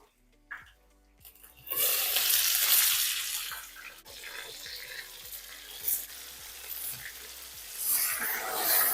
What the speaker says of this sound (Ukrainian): смажиться вона десь хвилинки 3-4 з кожного боку, з кожної сторони